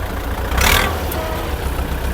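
A tractor engine rumbles loudly close by, with a brief rise in noise as gas is given, then settling back to a steady idle-like drone.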